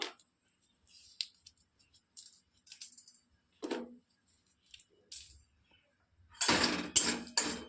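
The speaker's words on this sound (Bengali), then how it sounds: "শুকনো লঙ্কাটা আধ ভাজা হয়ে গেছে এবার দেবো পাঁচফোড়নটা" Dried red chillies being dry-roasted in a pan for a sweet-sour-spicy green mango pickle give scattered light clinks and scrapes of stirring, ending in a louder, rougher burst of rattling and scraping.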